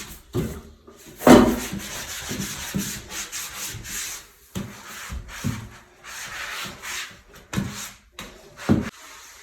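A white sponge with Bar Keepers Friend scrubbing a surface during house cleaning, rough rhythmic rubbing strokes in bursts separated by brief pauses, close and fairly loud.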